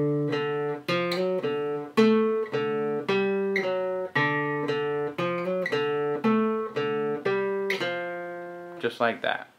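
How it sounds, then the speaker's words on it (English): Guitar plays a two-measure riff as a major and minor third exercise: a steady stream of plucked notes on one string, close and clean, each ringing into the next, ending in a brief scrape. "I want it to be a 2-measure riff."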